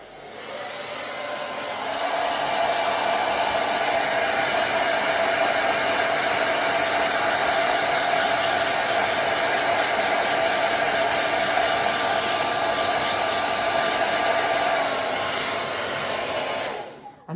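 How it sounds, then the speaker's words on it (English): A hairdryer blows on a freshly glued paper craft, starting up with a click and running as a steady loud whooshing roar before cutting off, with no talking. "I'm going to give it a quick blast with a hairdryer"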